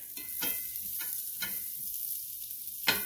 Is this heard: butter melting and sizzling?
yes